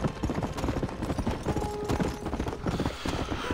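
Horse hooves clip-clop steadily and close in Red Dead Redemption on Xbox One, a continuous rhythmic trot over rumbling game ambience, with no talking.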